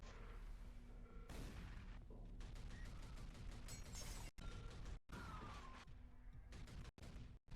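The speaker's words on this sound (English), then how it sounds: "Got my super shotgun that I can shoot red crystals with" Heavy booming blasts of a super shotgun in the shooter game Tangerine, loud repeated shots over a dense rumbling game backdrop, with a couple of abrupt cuts to silence.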